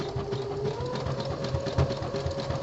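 A home sewing machine running steadily through a decorative stretch stitch on a boxer-brief body panel, with a close, continuous mechanical whir and rapid needle chatter.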